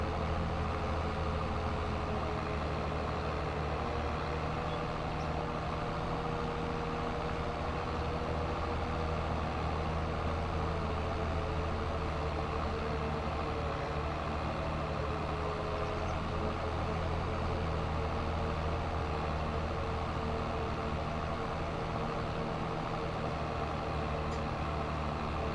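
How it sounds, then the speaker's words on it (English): A mower in Farming Simulator 22 runs as a steady engine drone with a faint whine, constant and unbroken throughout, quiet and alone with no talk. "This is a very nice mower."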